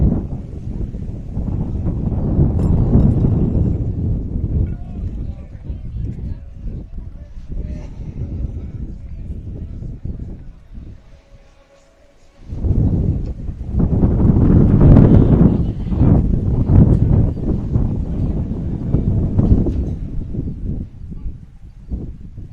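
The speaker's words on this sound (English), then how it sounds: "Big gust of wind there." Big gusts of wind sweep across a dry, dusty high school baseball field, loud buffeting roars against the microphone that rise, drop out briefly, then surge again.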